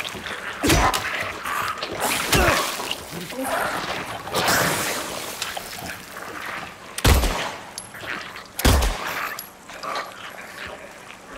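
Several sharp gunshots ring out amid Silent Hill 2 Remake game noise in a hospital level, with two loud isolated shots standing out near the end over a busy background.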